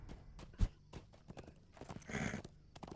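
Horse hooves in the video game Legacy of Morgoth clop along at a walking pace indoors, close and fairly quiet, with a soft rumbling background and a louder burst near the end.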